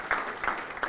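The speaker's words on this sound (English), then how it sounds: "So I just want to give everybody a round of applause here." Brief burst of applause from a corporate gathering audience, fairly soft and uneven, with a few louder clap peaks over a muffled room.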